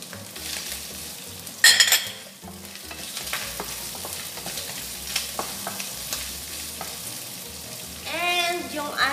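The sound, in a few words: green onions stir-fried into bacon and vegetable fried rice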